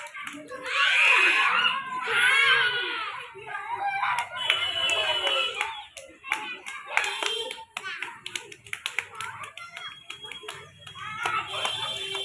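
Children clap hands in a lively rhythm during a traditional Odia kids' game played with a duster, mixed with shouting and excited chatter from the group.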